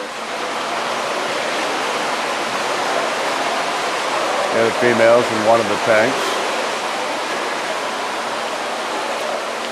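Water runs constantly through the tanks of a walleye fish hatchery, a steady rushing hiss like a small waterfall that holds even throughout, with someone speaking briefly over it midway.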